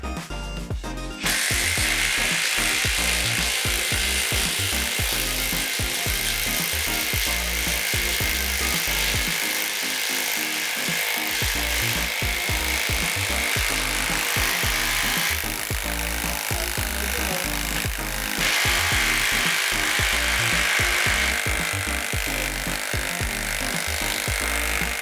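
A Bauer brushless impact driver drives a lag screw into wood with a loud, continuous rapid hammering rattle, close up, running for about twenty seconds with a brief pause partway through.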